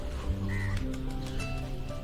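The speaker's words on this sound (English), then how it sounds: "a sanctuary for millions of migrating waterfowl" Birds call at the Salton Sea bird sanctuary, a stopover for migrating waterfowl: a few harsh, crow-like caws sound over a steady low background hum, moderately near and fairly faint.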